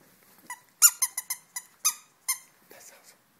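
A dog chomps a squeaky sausage toy, giving a run of sharp, close squeaks in a quick irregular rhythm, with a softer rustle at the end.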